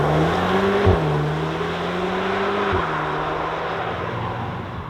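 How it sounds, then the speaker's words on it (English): A 2025 Audi S3 hot hatch drives on an open road, its engine droning steadily inside the cabin with two quick gear-change dips in pitch under broad road noise. "let's get this car out on the road"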